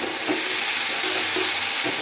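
Steady frying sizzle of yardlong beans and potatoes being stir-fried in a pan, a constant close hiss with faint scraping as the food is moved around.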